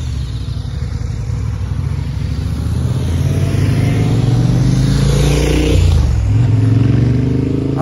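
A motorcycle passes on the San Bernardino Pass road at about 1800 m. Its engine swells louder toward the end and then eases off beneath a steady, heavy drone of road and wind noise from inside a vehicle.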